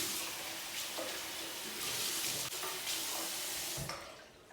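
Tap water runs steadily into a sink while olive oil scrub is rinsed off skin, a close, continuous splashing rush that fades out at the end.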